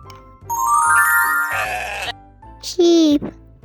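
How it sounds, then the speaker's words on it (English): A sheep bleats loudly and close by, with a long wavering bleat followed by a shorter, sharper one after a brief pause. "sheep,"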